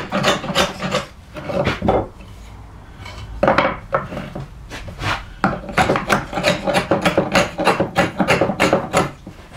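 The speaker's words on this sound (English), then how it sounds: "I want to tear up these fibers here that are stuck to the shoulder, so I brought the chisel up on its edge there to go across there" A chisel held on its edge pares and tears stuck wood fibers from a tenon shoulder, giving repeated close, rasping scrapes in quick irregular bursts with brief pauses, and no talk.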